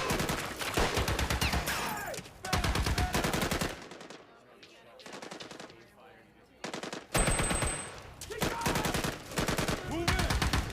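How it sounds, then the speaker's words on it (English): Rapid automatic gunfire rattles in sustained bursts during an ambush firefight, several long volleys broken by a brief quieter lull with scattered shots, loud and close, with shouted voices mixed in. "Engaging hostiles returning fire."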